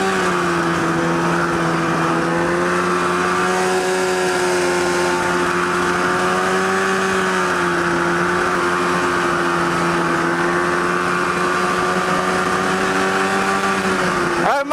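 A go-kart fitted with a snowmobile engine drives along loud and close, its steady high-pitched engine drone holding a sustained note with slight pitch wavers throughout, no other sounds competing.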